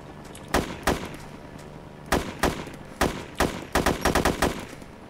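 Gunfire from a player shooting in ARMA 2, with sharp cracks arriving singly and in quick clusters, close and loud against a quiet background.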